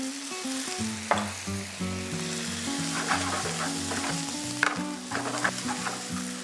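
Cabbage and apple sizzle in a hot skillet as balsamic vinegar goes in, a steady frying crackle with stirring, heard under prominent background music.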